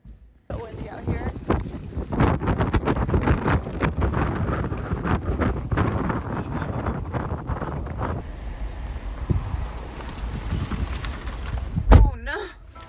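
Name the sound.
strong wind outdoors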